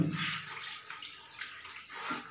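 Water sloshing and splashing as it is stirred with Dettol and Surf detergent to wash a KN95 mask, a soft, continuous, close watery swirl with no speech.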